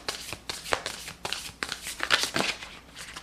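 Tarot cards are shuffled by hand in a quick series of riffling bursts, close and crisp, with short gaps between each pass and no talk.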